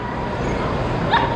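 A red male miniature pinscher at a breed club specialty show gives a quick, sharp yip near the end, over a steady wash of crowd noise.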